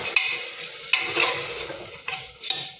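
Whole masoor lentils and potato stir-fried in masala in a pan, a steady close sizzle broken by several sharp scraping stirs of the spatula, with no talking.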